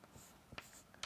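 A marker or chalk scratches on a classroom board in a few short, faint strokes, with a sharper tap near the end and no voice.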